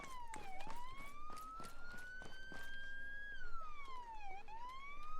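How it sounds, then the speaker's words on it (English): A police siren wails nearby, rising and falling in pitch in long sweeps, with footsteps or shuffling thumps beneath it and no talking. "Someone just turn off that siren."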